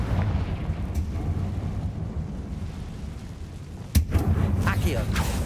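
Confringo fire spell cast in the video game Hogwarts Legacy, a single sharp blast near the middle over steady game noise and rumble, followed by a brief crackling tail.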